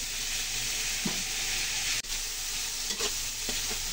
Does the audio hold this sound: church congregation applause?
no